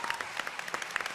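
A crowd at a BlizzCon 2017 panel claps for Aisha, a brief burst of lively, fairly close applause with many overlapping hand claps.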